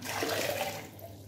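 Cold water pours into strawberry juice being made for a Ramadan drink, a continuous close splashing gush that tapers off near the end, with no talking over it.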